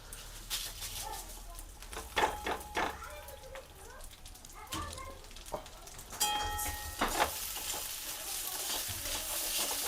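Gobindobhog rice frying in a pan gives a low sizzle broken by repeated scraping and clattering stirs, moderately close and fairly quiet.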